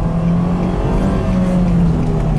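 A Nissan Grand Livina with a 1800cc engine and six-speed gearbox accelerates hard in first gear, its engine note loud and steady and rising slightly, heard close from inside the car.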